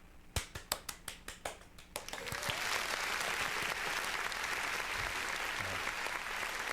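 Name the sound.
audience applause for a special guest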